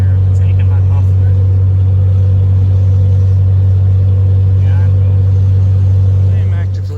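A Ford F150 pickup truck with its muffler removed idles steadily, a loud, close, continuous low engine drone that holds unbroken throughout with little change in pitch.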